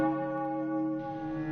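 A single evening church bell, the only one serving the whole area, sounds a sustained, humming metallic tone that slowly fades, with a slight fresh swell near the end.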